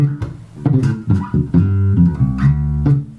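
An electric bass plays a short phrase from a bass solo, distinct plucked notes and octave jumps in a quick rhythmic line, clear and close with no talking.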